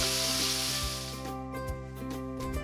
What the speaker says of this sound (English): To the same pan, add 2 finely chopped tomatoes.